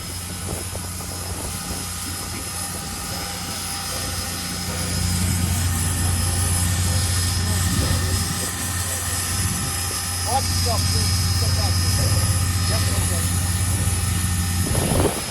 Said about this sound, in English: that would be the injector overflow